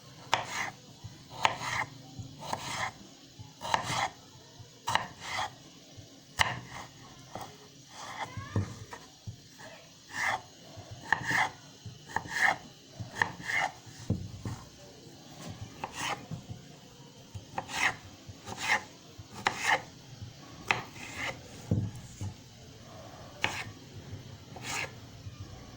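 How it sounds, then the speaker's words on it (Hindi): A knife cuts potatoes into French fry strips on a board, making steady, crisp chopping strokes close by, in irregular runs over a low background hum. "अब हम इसको फ्रेंच फ्राइज की शक्ल में काटते हैं"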